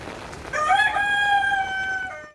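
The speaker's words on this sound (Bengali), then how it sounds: "মুরগির ডাক" A rooster gives a single loud, drawn-out crow on a rainy day, close by and clear, rising and then trailing off, with no talk.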